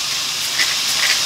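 Briefly thawed frozen shrimp hit a hot frying pan for fried rice, giving a loud, steady, close sizzle with a bright hiss that stays even throughout.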